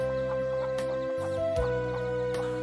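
Country hens with their chicks on a traditional village poultry farm cluck in short, repeated calls, with thin chick peeps layered over them. The sound is close and steady throughout, with no talking.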